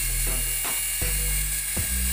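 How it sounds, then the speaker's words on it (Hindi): Two toy RC helicopters switched on at once, their rotors whirring up in a steady, close mechanical buzz with a few brief ticking bumps and no talking. "आवाज तो ऐसी लग रही है जैसे कि सचमुच का कोई हेलीकॉप्टर उतर गया मेरे पड़ोस में।"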